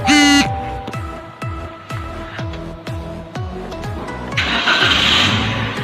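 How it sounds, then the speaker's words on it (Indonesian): A car engine cranks and starts with the oxygen sensor socket unplugged, giving a run of rhythmic starter pulses followed by a steady idle that rises in a louder rush near the end, close and clear. "Sekarang kita nyalakan kembali mesinnya."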